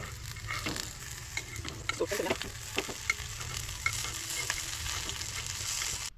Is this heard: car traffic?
no